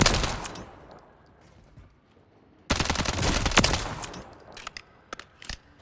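Rapid bursts of gunfire crackle from the Striker in the Warzone video game: a sharp opening volley, a pause, then a longer sustained burst, with a few scattered single shots closing it out.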